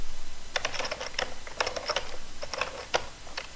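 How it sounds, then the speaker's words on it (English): Someone types on a computer keyboard at a Linux terminal in close, quick bursts of clicking keystrokes separated by short pauses. "So when I'm typing stuff here, for each line that I'm typing, when I press enter, it gets printed again."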